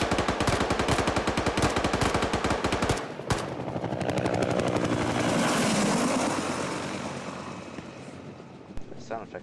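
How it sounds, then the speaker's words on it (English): Video game helicopter sweeping past during a combat match for outposts, a loud rapid rotor chop that swells into a roaring whoosh and fades away, with gunfire-like bursts at the start. "The sound effect of the chopper flying by, that was crazy."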